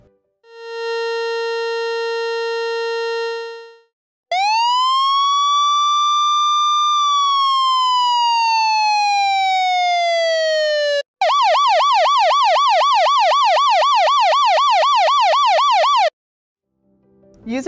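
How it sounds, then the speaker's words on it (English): Federal Signal SST3 electronic siren cycling through its three tones: a steady harmonic horn-like tone, then a long rising and falling wail, then a rapid warbling yelp, loud and alone with brief gaps between. "Each model features the internal amplification and circuitry required to produce three different tones: wail, yelp, and horn."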